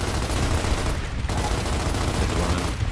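Rapid gunfire from a Gears of War Ultimate Edition multiplayer match, dense and continuous bursts filling the whole stretch at steady loudness, with no talk over it.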